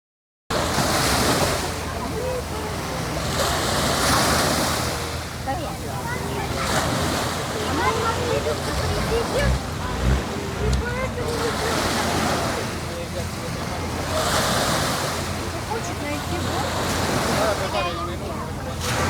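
Sea waves wash onto a beach at Ko Lan island near Pattaya, a steady broad roar of surf with rolling surges and wind noise against the microphone, continuous and fairly loud.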